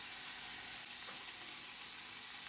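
Chopped shrimp stir-fry in leftover oil, giving a faint, steady sizzle and hiss throughout with no voices.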